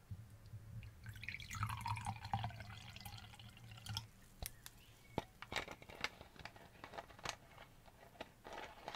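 Carbonated water is poured close up in a quiet indoor ASMR setting, first as a soft liquid stream, then as a light, scattered fizz of popping bubbles and faint drips. Nobody speaks.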